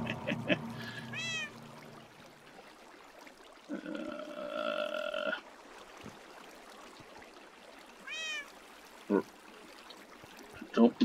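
Cat in the Minecraft video game meowing several times, in short, fairly faint calls spread out over a soft trickling background with other quiet game noises.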